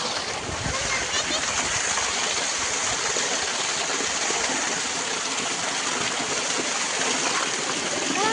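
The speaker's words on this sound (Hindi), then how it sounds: "यहाँ पे जो है ना पानी चला हुआ है, लोग लगा रहे खेतों में पानी।" Irrigation water rushes steadily into farm fields, a constant broadband gush and splash that fills the whole stretch without pause, heard close and fairly loud.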